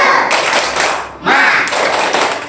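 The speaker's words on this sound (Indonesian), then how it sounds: "Ayo, tepuk semangat." Schoolchildren in an Indonesian classroom perform a rhythmic spirit clap, loud patterned bursts of claps in two dense phrases with a short pause between, close and energetic.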